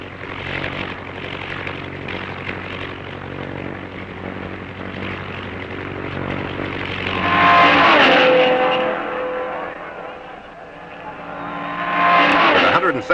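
Race cars from the 1954 Carrera Panamericana road race roar along under a steady rumble, with two loud engine passes swelling and fading.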